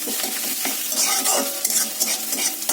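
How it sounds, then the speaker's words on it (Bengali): Onions browning to golden in a wok, sizzling continuously as a spatula scrapes and stirs through them in quick, uneven strokes, heard up close without any talking. "পেঁয়াজটা মোটামুটি গোল্ডেন ব্রাউন করে ভাজা হয়ে গেলে,"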